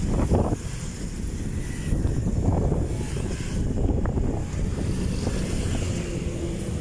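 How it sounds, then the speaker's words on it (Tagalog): Strong wind roars across the microphone at an abandoned Waltermart mall in Calamba, Laguna, in a constant low rumble, swelling slightly at times, with no talking. "Napakalakas ng hangin guys. Siguro maririnig nyo yung"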